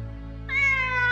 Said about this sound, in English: it would be invisible until it meowed, and then vanish again when it meowed a second time